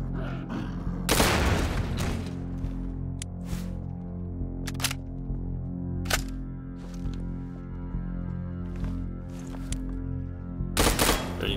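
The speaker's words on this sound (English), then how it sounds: "keep having this problem with the machine gun" Machine gun fire in Garry's Mod, heard as scattered sharp cracks: a dense burst near the start, then isolated single shots spaced across the clip over a steady low hum, with a final burst at the end.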